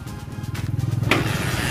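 A Honda Supremo 150 motorcycle with a newly replaced ignition switch starts on one click: a brief starter whir followed by the engine catching into a steady, rapidly pulsing close-up idle.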